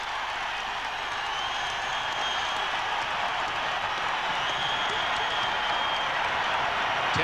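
A basketball crowd in the Pistons' arena roars during a January 1991 game against the Blazers, a dense, steady wall of cheering and clapping that holds at an even level for the whole stretch.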